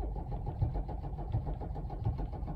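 Mercedes OM617A diesel engine cranks over without catching, the starter churning in a steady rhythmic pulse of roughly three beats per second, moderately loud and close, with no speech.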